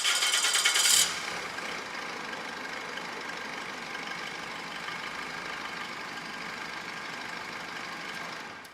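A car engine cranks for about a second with a loud burst, then settles into a steady, even idle that runs on alone. The car is being tested for its fuel pressure sensor.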